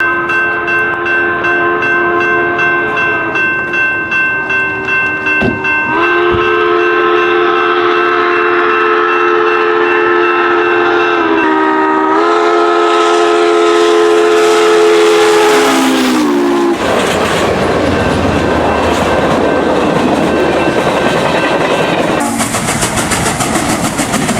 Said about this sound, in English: a majestic 1941 steam locomotive, roars to life after decades of restoration